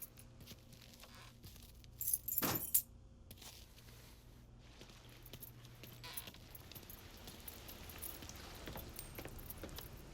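Keys jangle briefly as they are handed over in the video game Mafia 3, a short metallic rattle over quiet ambient game noise, followed by a long stretch of soft background hiss.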